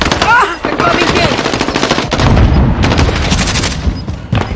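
Rapid automatic gunfire and bursts of shots in a Modern Warfare 2 trios match, loud and nearly continuous with booms mixed in, under excited players calling out to each other.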